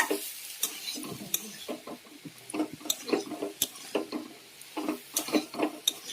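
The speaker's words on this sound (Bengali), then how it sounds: "সবজিটা দিয়ে দেখো ভালো করে একটুখানি নাড়াচাড়া করে নিয়ে" Mixed vegetables, including potato, cauliflower, beans, flat beans, radish and eggplant, are stirred in a wok, with a steady run of scraping, clattering strokes over a soft sizzle, fairly close and continuous with no talk.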